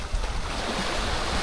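Waves crash and wash onto the beach at Playa del Carmen, a soft, continuous surf roar with some wind noise and no voices.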